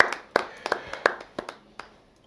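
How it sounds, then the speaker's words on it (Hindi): A handful of scattered, sharp hand claps from an audience at a Hindi poetry gathering, irregular and fairly close, fading out toward the end. "एक बार जोरदार तालियां"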